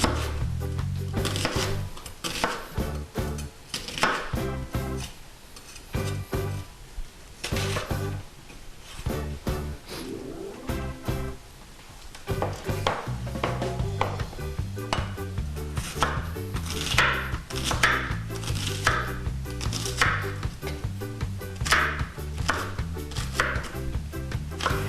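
A knife chops an onion on a cutting board, a steady run of quick, crisp taps with a brief pause midway before the rhythm resumes, close and clear, with no talking.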